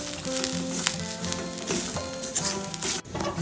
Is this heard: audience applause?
no